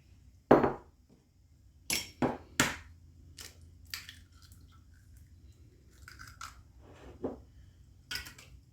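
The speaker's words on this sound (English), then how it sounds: "Now we're going to put in 3 eggs." Eggs cracked against a bowl for peanut butter chocolate brownie batter, several sharp close taps and clinks spaced a second or so apart, followed by softer wet plops, in a quiet kitchen with no talking.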